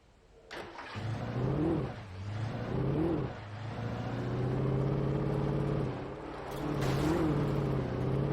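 A car in the video game Alan Wake, driven in daytime near a coal mine museum, revs and drifts with a rising and falling engine drone, loud and close, with no talk over it.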